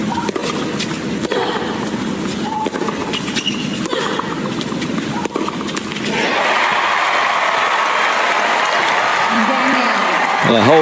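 Crowd at a women's professional tennis match in Dubai murmurs and stirs throughout, swelling into a louder steady buzz partway through, with a commentator talking over it.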